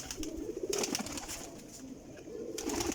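A Sialkoti pigeon in Jhelum gives deep, muffled coos amid rustling noise bursts, close and moderately loud, with no one speaking.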